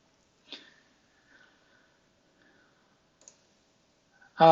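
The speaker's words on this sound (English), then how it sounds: "Okay, so I'm going to click next." A computer mouse clicks while a Microsoft SCCM software upgrade is being installed: two small, isolated clicks in near silence, then a voice starts at the very end.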